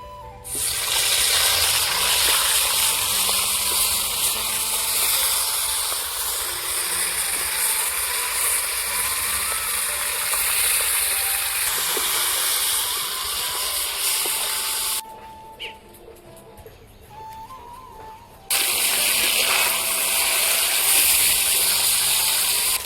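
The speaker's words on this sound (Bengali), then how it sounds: "এখন আমি সুন্দরভাবে মাছের মাথাগুলো ভেজে নেবো" Katla fish heads frying in a little oil left over from frying potatoes, a continuous loud sizzling hiss with crackles that briefly drops away near the end before resuming.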